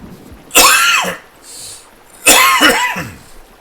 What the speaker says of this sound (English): Gotta shift this cough. It's really doing my head in.